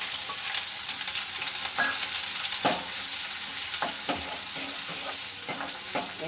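Chopped onion and green chili fry in a little oil, giving a steady close sizzle broken by scattered spatula scrapes and light clinks, with no voices.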